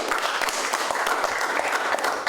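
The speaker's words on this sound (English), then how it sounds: "give these tugboat pilots and captains and barge crews another round of applause right now" At a public meeting on oil barges docking on the Hudson River, an audience gives a round of applause for tugboat pilots, captains and barge crews, a sustained even spread of clapping across the room at moderate loudness.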